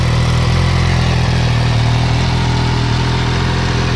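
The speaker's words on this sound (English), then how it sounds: "there's what it sounds like without the exhaust baffle basically in. So a little bit louder, a little bit raspier." An MV Agusta F3 motorcycle idles loudly and steadily with its exhaust baffle removed, giving a raspy, rumbling exhaust tone, continuous and close throughout.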